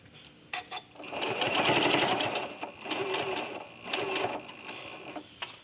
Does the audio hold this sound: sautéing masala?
no